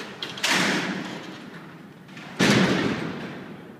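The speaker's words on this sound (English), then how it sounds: "If you've seen a prison movie made in the last 30 years, you've probably heard the sound of these doors." Old steel cell doors at Alcatraz prison, a design no longer manufactured, roll along their tracks and slam shut with loud metallic impacts, two heavy clangs a couple of seconds apart, each trailing off in echoing rumble.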